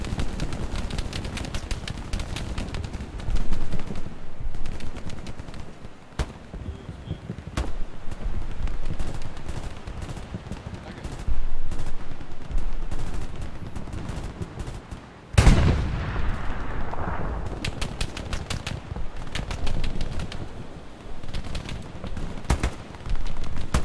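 Intense rifle and machine-gun fire in the WWII shooter Hell Let Loose during a beach defense at Utah, with dense overlapping shots near and far and a sharp close blast midway, under occasional talk.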